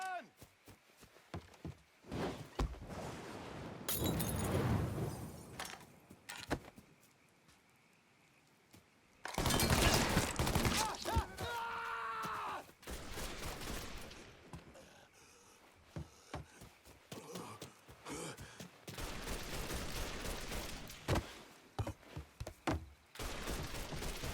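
Gunfire bursts and shots in Mafia 3 combat, rapid cracks in clusters scattered through the stretch, mixed with footsteps and impacts, with shouting voices over much of it.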